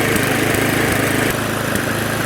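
An old, neglected lawn mower engine runs steadily and loud at close range, a dense continuous drone with faint irregular spits and sputters breaking through now and then.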